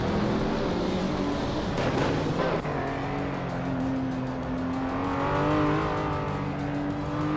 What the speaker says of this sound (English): Schmerzenleib is driving a 2011 KTM Crossbow R, known for its lightweight and agility.